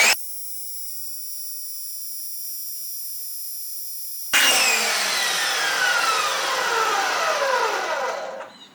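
A Nixx Technologies foam cannon fitted with a 1.15 mm orifice sprays into a 5-gallon bucket: a steady, even hiss for several seconds, then a sudden louder, rougher rush with shifting tones that fades out near the end.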